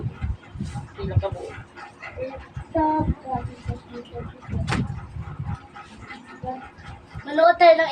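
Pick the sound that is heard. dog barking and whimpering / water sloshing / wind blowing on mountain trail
dog barking and whimpering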